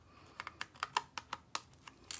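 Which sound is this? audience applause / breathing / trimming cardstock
trimming cardstock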